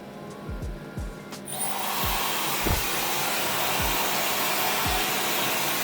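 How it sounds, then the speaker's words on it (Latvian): A hair dryer switched to a high setting starts up after a few faint clicks. It settles into a loud, steady roar close by, with some low thumps underneath and no speech. "šādi apmēram skan fēns uz kaut kādu, nezinu, tur trešo režīmu laikam"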